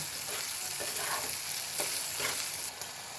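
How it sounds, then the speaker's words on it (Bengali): Potatoes and spices stir-fried in a pan make a quiet sizzle beneath repeated scraping strokes of a spoon, with no talking. "কাঁচামরিচ আবারও সব কিছু একসাথে মেরে নেব"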